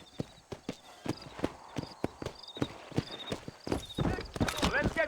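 Horse hooves clip-clop in a steady trot on a dirt street in Red Dead Redemption, with occasional whinnies and a voice briefly over the hoofbeats.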